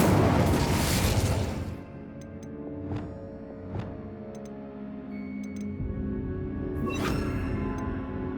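An Incendio fire spell cast in Hogwarts Legacy, a heavy whooshing burst that fades over about two seconds. Small ticks and a few softer pops follow it, along with a bright flare near the end, over a low magical ambience.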